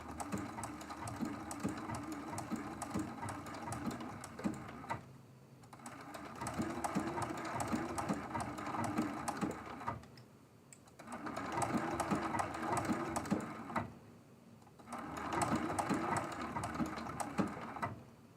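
A sewing machine runs in steady bursts while stitching a quilt block, its motor whirring with a rapid needle clatter for about five seconds at a time, separated by short pauses where the fabric is turned.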